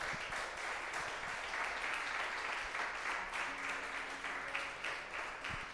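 Sustained applause from a large church congregation, steady and dense, with a faint tone humming underneath partway through.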